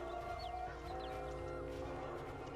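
A bird calling in the video game Keeper: short chirpy, slightly warped call notes repeat over a steady hum of game ambience and music drones.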